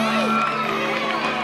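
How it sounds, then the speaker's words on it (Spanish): A school-anniversary crowd cheers for an eighth-grade girl at a student event. There is a brief, loud burst of mixed shouting and whooping voices, with some sustained tonal sound running underneath. "Fuerte el aplauso para la niña de octavo grado, Kelly Marcela"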